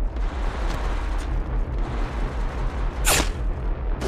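Video game firefight with continuous low booming gunfire rumbling throughout and a sharp, bright burst of a shot near the end, loud and with no voices.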